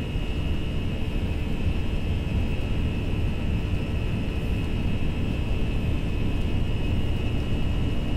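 Airbus A320 jet engines at takeoff thrust in the Prepar3D flight simulator, a steady, loud, broadband roar with a faint high whine, continuous throughout without talk.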